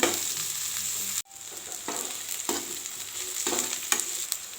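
Onion and two medium tomatoes frying in a pan for Andhra-style rasam, a close steady sizzle broken by a brief drop, then rhythmic stirring scrapes over continued frying.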